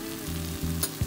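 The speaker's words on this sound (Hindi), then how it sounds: "इसको भी अच्छी तरह से फ्राई कर लेंगे हम" Tomato with red chili powder and spices frying in a pan for egg bhurji, a steady close sizzle with a few soft stirring scrapes, no voices.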